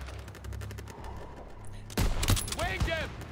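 Gunfire bursts from the Call of Duty: WWII campaign, a loud cluster of shots near the end, preceded by quieter background battle noise with a voice talking.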